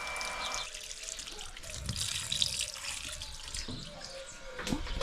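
Clean pumped water gushes steadily from a motorhome pipe outlet, a continuous close splashing flow like a running tap, with no talk over it.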